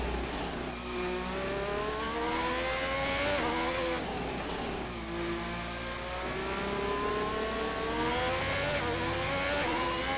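Onboard engine of a race car at the British GP in a racing game league, a high, strained whine rising and falling through gear changes and revving, steady and fairly loud with no talk over it.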